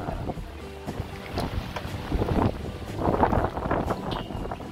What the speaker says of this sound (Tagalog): Malakas talaga yung hangin dito